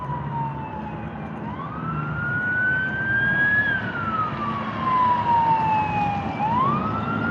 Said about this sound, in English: I'm listening to these sirens.